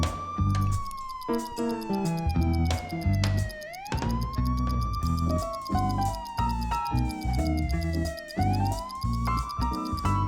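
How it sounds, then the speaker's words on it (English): A police car siren wails loudly and continuously, its pitch sweeping up and down in long repeating cycles over a busy, rhythmic backing of other sounds. "they heard a police car siren"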